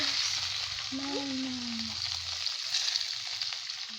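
Rolls of brick pastry fry in oil with a steady, crackling sizzle throughout, while someone speaks briefly over it and a short tonal sound rises midway.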